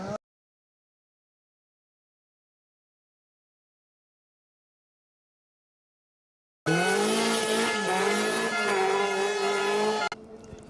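A rally car at full speed on a stage of the Greystoke Stages event, its engine revving loud and close with tire squeal for a few seconds after a long silence, then cutting off abruptly.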